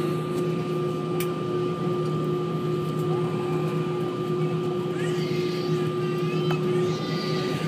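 A Cebu Pacific Airbus A320 departing Roxas roars at full throttle on take-off, heard as a loud, steady engine drone with sustained tones while a person talks over it.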